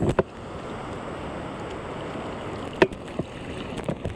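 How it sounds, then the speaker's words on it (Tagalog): Rough sea surges and slaps around a small boat offshore, a constant rushing wash with a few sharp splashes or knocks against the hull, loud and close, with no talk. "Sobrang maalon talaga."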